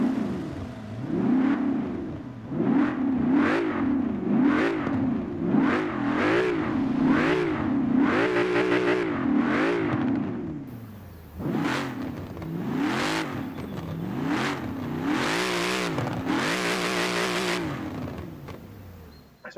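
A car engine revs repeatedly in the video game Forza Horizon 4, rising and falling in pitch with steady throttle blips, loud and close, with no talking.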